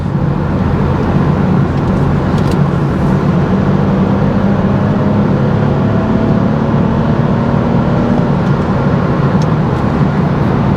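A 245 hp BMW 428i accelerates hard in Sport Plus mode, a continuous loud engine and road roar heard from inside the car, steady throughout with no talking.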